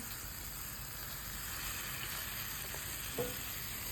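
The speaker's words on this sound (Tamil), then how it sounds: "ஸோ இதை மூடி வச்சு தான் இப்போ ஃப்ரை பண்ணிகிட்ருக்கோம்." Mutton chukka fries in a covered pan with a steady, even sizzle that hisses continuously throughout, with one small crackle near the end and no talking.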